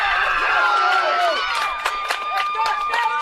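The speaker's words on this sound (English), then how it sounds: "her cheering section goes a little crazy" Spectators at a high school playoff softball game erupting after a home run, with loud sustained cheering, excited shouting voices and a few claps close by.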